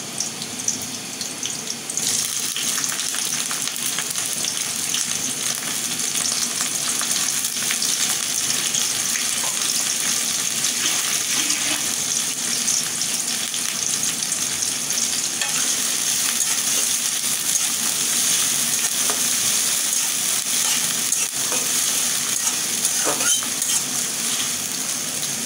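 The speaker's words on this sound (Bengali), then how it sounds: "এই পেঁয়াজের সাথে আমি চিংড়ি মাছটাও ভেজে নেব।" Shrimp fry with onions in a pan, producing a dense, steady sizzle and hiss that continues close and loud throughout, with faint stirring movements underneath.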